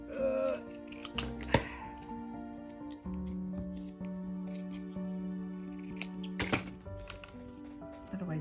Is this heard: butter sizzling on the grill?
no